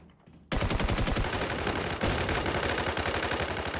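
Rapid automatic gunfire in the video game Warz Infestation bursts in after a brief quiet start and hammers on continuously at close range and high volume, a dense stream of shots with a short break near the middle.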